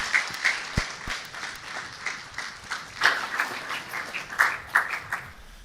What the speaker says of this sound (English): Please, a round of applause for him as he takes the podium.